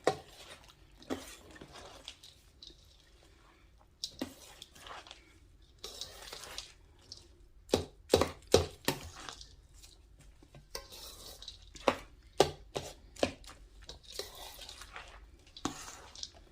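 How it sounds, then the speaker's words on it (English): Homemade cornbread dressing with broth stirred in a pan or bowl, a series of soft scraping taps and clinks of a spoon against the dish, irregular and close, fairly quiet. "I'm going to stir it up."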